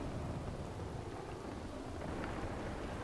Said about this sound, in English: let's see if we can ride hard and get out of this thunderstorm here before it gets much worse